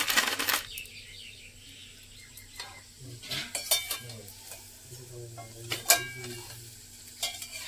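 Palm fruit pitha frying in oil, a soft, low sizzle close by, broken by occasional sharp clinks and scrapes of a utensil against the pan.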